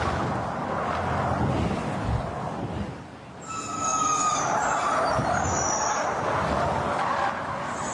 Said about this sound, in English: Hear the tire squealing.